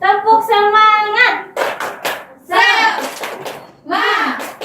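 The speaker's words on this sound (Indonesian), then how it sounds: "Tepuk semangat" A classroom of students performs a rhythmic group clapping chant in short bursts, claps interleaved with sung and spoken voices from a teacher and class.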